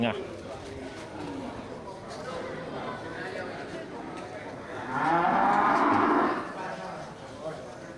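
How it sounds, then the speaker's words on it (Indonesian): Brangus and Simmental crossbred cattle at a livestock market, one cow giving a loud, sustained moo of about a second midway, over steady background chatter and faint bird calls. "kita ini terlihat beberapa ekor sapi bless yang persilangan dengan sapi berangus dan sapi simental ya"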